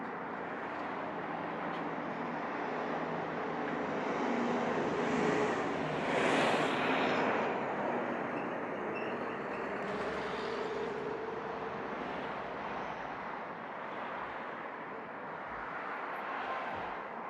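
Jet airliner taking off at Montego Bay airport, Jamaica, a steady broadband engine roar that swells to a peak midway and stays loud as it rolls past, with no voices.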